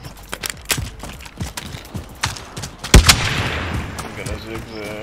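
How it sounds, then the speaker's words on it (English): Gunfire in Call of Duty: Warzone, sharp shots and bursts cracking out in an irregular run, one loud close crack near the middle, with a player talking over the action. "They're shooting at me."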